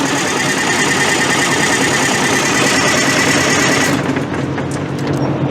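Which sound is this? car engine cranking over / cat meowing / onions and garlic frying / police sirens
car engine cranking over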